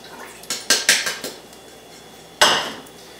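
Kosher salt dumped into a metal pot on a stovetop makes a quick series of sharp clattering hits, then a single louder rattling impact after a pause, close and with no talk.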